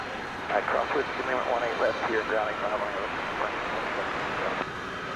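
A large jet airliner known as the Queen of the Skies roars steadily at DFW Airport at night, a broad engine rumble under people talking throughout.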